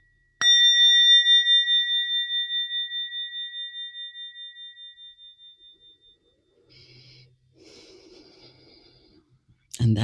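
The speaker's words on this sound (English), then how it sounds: "I could ring a bell to sort of start us off" A single bell is struck once, ringing out clear and bright, then slowly fading with a pulsing shimmer over several seconds, followed by soft breathing and small movements, then a brief louder noise at the very end.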